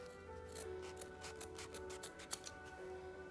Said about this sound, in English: we're going to take our scissors and we're going to cut off just that excess fabric right there